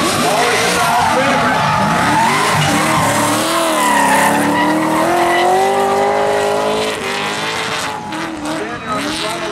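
Drift car tires squeal and skid loudly at Drift Atlanta 2010 qualifying, the wavering screech rising and falling over a roaring engine, with an announcer talking throughout.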